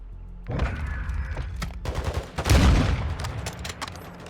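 Rapid bursts of gunfire from a shooter video game match, a short volley then a heavier, booming cluster of shots, loud and close with no talk over it.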